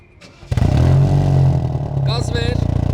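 A BMW F10 528 cranks and fires up with a sudden loud catch, then settles into a rumbling idle heard from the exhaust, close by, with brief clatter and a voice speaking over it.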